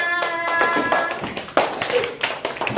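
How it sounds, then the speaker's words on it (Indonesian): Schoolchildren in a classroom clap for a presenting group, a quick scattered patter of hands, fairly close and modest in volume, thinning toward the end. "Tepuk tangan untuk kelompoknya."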